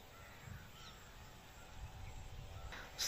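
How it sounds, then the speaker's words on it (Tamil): A bird in a farm field gives a few faint caws from a distance over quiet outdoor ambience and light wind, with no talking. "இங்கே ஒரு பறவை"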